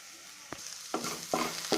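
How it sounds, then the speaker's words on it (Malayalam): Capsicum and ground coconut paste stirred and frying in a pan, a soft steady sizzle with three or four distinct scrapes of a spoon, close and fairly quiet. "അരപ്പും കൂടി ചേർത്ത് 2-3 മിനിറ്റ് നന്നായിട്ട് ഇളക്കി മൊരിയിച്ചെടുക്കണം."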